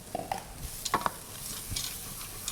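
Frozen peas tipped and stirred into frying samosa filling of onions, carrots, sweet potato, potatoes, garlic, ginger and spices, with a few soft clinks and scrapes over a low sizzle, close and brief, with no talk.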